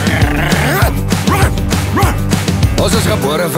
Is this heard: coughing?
no